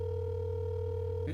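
A telephone ringback tone heard on a call, a steady electronic hum held through the whole clip, ending with a brief rustle or voice at the close.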